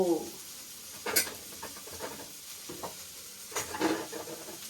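Two eggs go into a hot, oily pan while cooking a green chilli soup, bringing a steady sizzle with stirring scrapes and a couple of sharper bursts, close and moderately loud with no talk.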